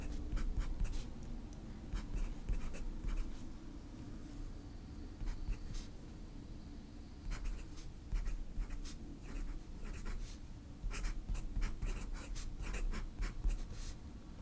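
A fountain pen with an architect nib scratches steadily across paper, close and continuous with brief pauses between strokes and words.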